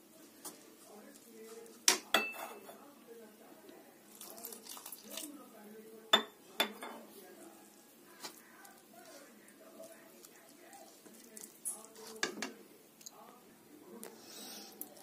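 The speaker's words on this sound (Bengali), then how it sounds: "অল্প অল্প করে পানি দিয়ে এটা একটা ব্যাটার করব" A spoon or whisk clinks and scrapes against a bowl as water is stirred into batter for crispy coriander leaf chops, soft mixing sounds punctuated by a few sharper metallic knocks, with a voice talking over it.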